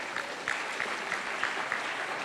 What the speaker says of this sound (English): Please give big applause to Dr. Rian.